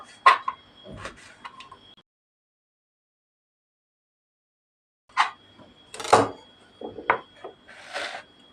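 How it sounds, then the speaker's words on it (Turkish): Knife strokes chopping tomatoes on a cutting board, a quick cluster of chops, a long pause, then another busier burst of close, sharp cutting taps. "Birkaç tanesini içine doğrayacağım arkadaşlar."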